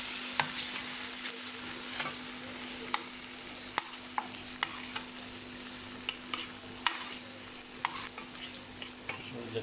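Ginger garlic paste sizzles in a pan with onion and masala for a mutton mince curry, a steady frying hiss broken by intermittent clicks and scrapes of stirring, close and fairly loud.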